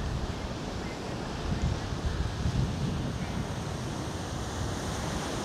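Steady surf and gusty wind on Jomtien beach, a continuous broad wash of waves with wind buffeting the microphone, close and fairly loud, with no one talking.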